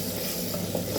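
Moroccan tektouka of peppers, tomatoes and onions sizzling steadily in a pan, with a soft scraping of stirring running under the constant frying hiss.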